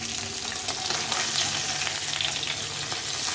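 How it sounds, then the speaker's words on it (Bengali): Pieces of hilsa fish sizzle in hot oil in a pan while being turned and stirred, a steady close crackling hiss with faint low hum beneath and no voices. "দেখো এইভাবে হালকা হালকা করে ভেজে নিলাম সবগুলো মাছ"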